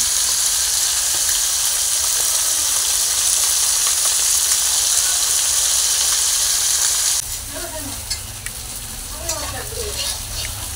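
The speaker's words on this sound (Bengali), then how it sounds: "তো বন্ধুরা এখানে মাছগুলো এক পিঠ লাল করে ভালো করে ভেজে নিয়েছি, আর এক পিঠ উল্টে দেওয়া হয়েছে।" Katla fish pieces fry in oil, a loud, dense, continuous sizzle close up that drops in level partway through, leaving a softer crackling hiss with light spatters.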